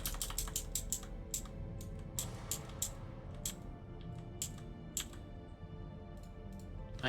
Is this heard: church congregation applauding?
no